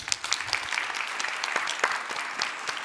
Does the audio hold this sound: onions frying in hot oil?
no